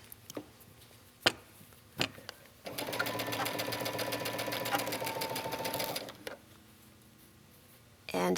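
A sewing machine runs a straight stitch set at 3.0 with stretch thread on a circle sweater sleeve, a steady loud whir for about three seconds between a few sharp clicks and handling knocks.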